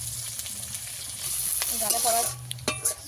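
Ginger, garlic, curry leaves, cumin and dried chopped onion sizzle steadily in a pan of hot oil, with a few soft scrapes from stirring and a louder spattering burst near the end, no voices.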